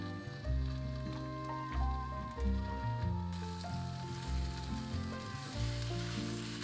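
Cabbage pancake dipped in batter frying in a wide steel pan, a steady loud sizzle throughout with soft background music playing alongside.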